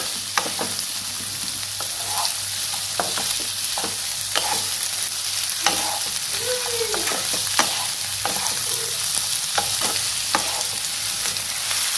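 Onions frying in a pan for chicken curry, with ginger and garlic, crackle in a steady close sizzle, broken by sharp scrapes and clinks as a spatula stirs them.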